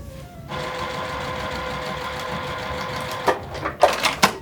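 Sewing machine stitching quilt fabric pieces, a steady close mechanical whir running for several seconds, then stopping and followed by a few louder clicks and handling knocks.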